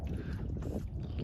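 A sailing canoe slips through water among small islands, giving a low rushing wash and wind buffeting close to the hull, steady and fairly quiet.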